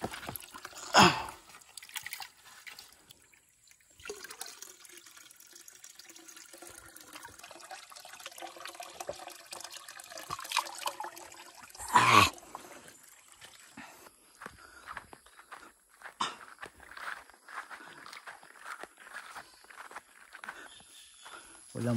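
A current of water flows on a farm, a soft trickling and rushing that stays faint and fairly distant, with a few louder splashy bursts breaking through now and then.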